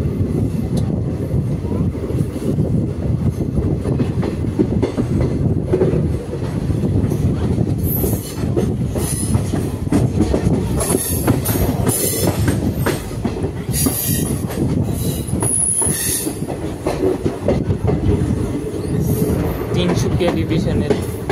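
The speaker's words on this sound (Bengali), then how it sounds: "এখন আমরা ঢুকছি আমগুড়ি জংশন রেল স্টেশনে।" An Intercity Express train rolls into Amguri Junction station with steady rumbling wheels, clacking over joints and scattered high-pitched squeals of brakes and wheels throughout.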